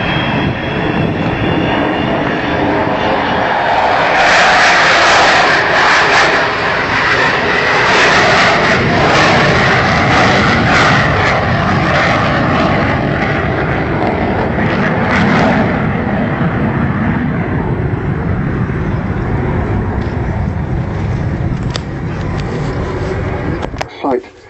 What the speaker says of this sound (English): doing a low, slow, wheels down fly past.